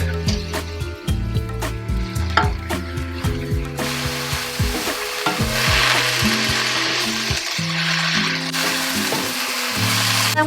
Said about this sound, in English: And then we're gonna stir fry it together.